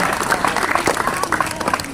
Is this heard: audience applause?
yes